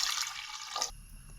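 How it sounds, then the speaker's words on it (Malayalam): Water pours briefly into a pot of lentils and tomato for rasam, a short splashing trickle that cuts off abruptly, leaving a quiet hum. "കുറച്ചും കൂടെ വെള്ളം ഒഴിച്ച് കൊടുക്കാം."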